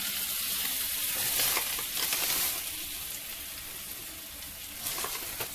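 Butter and flour sizzle and fry steadily in a pan for a roux, a continuous close crackling hiss with occasional stirring scrapes and no talk.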